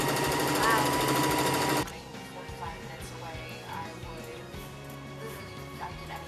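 A sewing machine runs a straight stitch on fabric with a loud, steady, close whir for under two seconds, then stops, followed by quieter sounds like small dog yips and whimpers.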